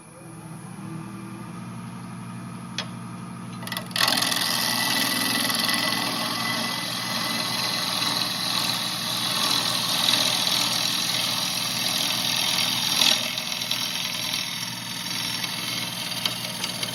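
A wood lathe spins a bowl blank while a bowl gouge cuts it, giving a steady motor hum. A louder, continuous rush of cutting noise starts a few seconds in and carries on to the end, with no voices.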